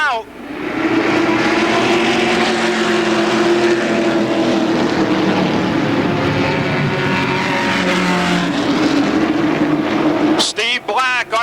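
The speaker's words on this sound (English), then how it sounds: "Smale Pontiac Pro Truck Division coming out of turn 4. The green's out." Smale Pontiac Pro Truck Division race trucks at Motordrome Speedway roaring loudly together past the stands at the green flag, a sustained thick engine drone that cuts off near the end, with a track announcer talking over it.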